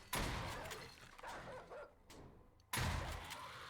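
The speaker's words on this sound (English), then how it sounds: "I heard a dog. Dogs are such a pain in the ass." A dog in a video game barks in short, sharp bursts, with a louder burst near the start and another near the end, separated by a quieter stretch.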